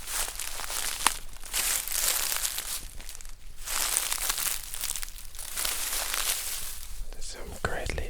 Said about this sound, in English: There's some great leaf sounds.